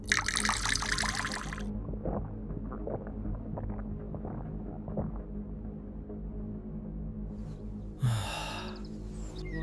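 Water poured into a kamandal water pot: a splashing trickle at the start, then quieter dribbling, and a second short pour near the end.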